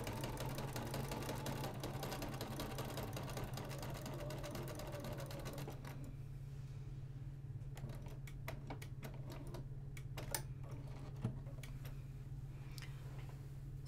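A domestic sewing machine stitches quilt half square triangle units with a steady, fast mechanical ticking and a constant low motor hum. The stitching stops partway through, leaving the hum under scattered light clicks.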